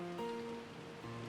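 Steady rain hiss from the Umineko visual novel game, constant and fairly loud, with soft sustained background music tones layered over it.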